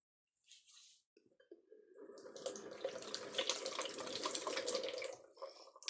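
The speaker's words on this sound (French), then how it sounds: "je rince mes mains" Hands rinsed under a running bathroom tap, water splashing steadily into the sink for several seconds after a brief start, with no talking.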